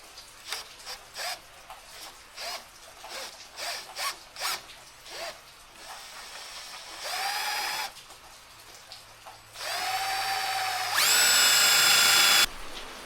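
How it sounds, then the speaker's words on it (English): A power drill bores pre-marked holes in a steel tube bumper for a Lexus GX470. Light rasping strokes come first, then two loud sustained whining drill runs, the second longer, close by. "and now we're just going to drill them out."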